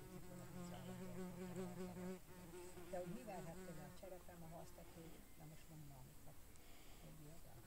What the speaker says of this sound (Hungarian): Várjuk a nektárgyűjtő darazsat is.